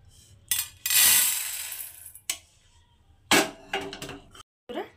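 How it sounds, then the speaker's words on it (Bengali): Fried urad dal is poured from the pan into another pot, with a sustained rattling rush of grains followed by several scraping clinks of a spoon against metal, close and moderately loud. "ডালটাকে একটা অন্য পাত্রে ঢেলে নেব"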